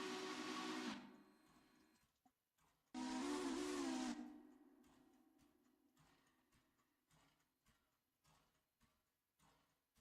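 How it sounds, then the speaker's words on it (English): Steam locomotive cylinder cocks in the game Railroader release two loud, broad hissing bursts, each about a second long, followed by softer scattered clanks and mechanical noises. "I found the cylinder cocks on this locomotive by mistake"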